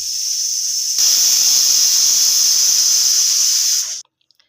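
A pressure cooker on the stove, cooking goat offal with chilli powder and hot water, lets off a loud, steady steam whistle. The high hiss runs unbroken for about three seconds, then cuts off sharply into silence.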